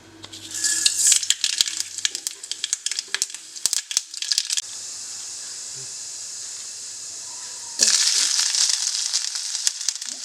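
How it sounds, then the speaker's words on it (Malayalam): Mustard seeds spatter in hot oil over onions in a pan for onion wheat dosa. Sharp crackling pops come in bursts over a close, hissing sizzle, which quiets to a low steady fry and then surges loud again near the end. "സവാള എല്ലാം ഇട്ടിട്ട് എണ്ണ നന്നായി ചൂടായി വന്നിട്ടുണ്ട്. ഇതിലേക്ക് നമുക്ക് കുറച്ച് കടുക് ഇട്ട് കൊടുക്കാം."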